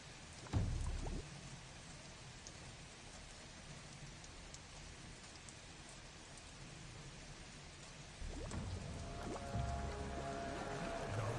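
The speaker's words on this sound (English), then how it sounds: "maybe I can keep the rain going" Steady rain sound effect played as a continuous hiss of falling drops, holding at an even level throughout with a brief louder thump near the start and a slight swell toward the end.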